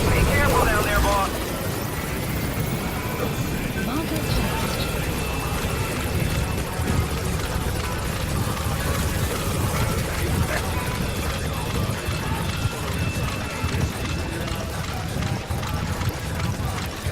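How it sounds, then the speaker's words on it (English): Helicopter gunship in the stealth-action game Metal Gear Solid V, a steady broadband rotor and engine drone holding constant for the whole stretch, with game ambience and voices mixed in underneath. "that helicopter is in the worst fucking place, for the record, because it made it so I could not run"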